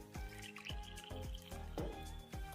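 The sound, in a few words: water poured into gram flour mixture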